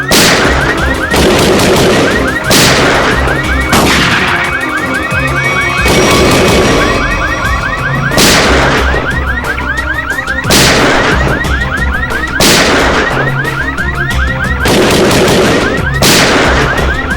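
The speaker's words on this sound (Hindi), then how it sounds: "ये गोली कहां से चल रही?" Gunshots ring out in a haunted-forest scene from a CID crime drama, loud sharp bangs repeating about every two seconds over a warbling alarm-like tone.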